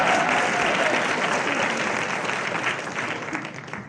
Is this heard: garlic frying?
no